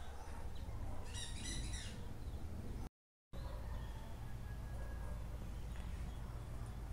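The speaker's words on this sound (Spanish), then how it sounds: "unas aves silvestres." Faint bird chirps and a brief burst of high twittering near the start, over a steady outdoor hiss, with a few scattered calls later.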